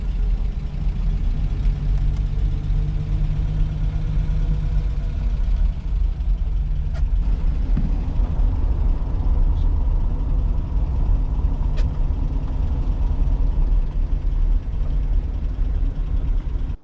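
Engine of a Valiant two-door hardtop running on the road: a steady low hum and drone that is even and moderately loud, with a slight change partway through, no talk.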